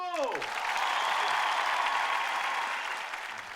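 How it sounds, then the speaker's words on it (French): An audience at a comedy show in Monaco applauds a comedian with a dense, sustained wave of clapping that fades slightly at the end, while a voice talks briefly over it at the start. "Donc applaudissements"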